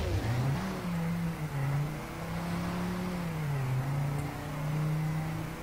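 A racing car engine in Trackmania 2 Canyon, a continuous close revving whine that rises and falls in pitch as the car speeds up and brakes through corners.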